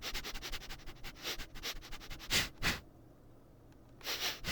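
Sniffing in VRChat: a run of quick, close nasal sniffs in rhythmic bursts, then a couple of louder, longer snorts and a brief pause before more sniffing, with no speech.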